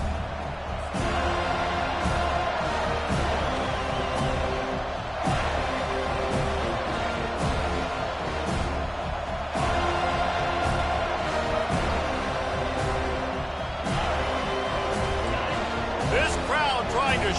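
A college football stadium crowd at Florida State versus Virginia Tech roars steadily throughout, a dense wall of cheering and noise under a commentator's voice, with a few louder surges and thumps.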